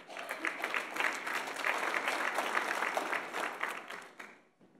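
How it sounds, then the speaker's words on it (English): An audience claps steadily for about four seconds at a college athlete of the year awards ceremony, a dense, even round of applause that fades out at the end. "Just want to have a little round of applause."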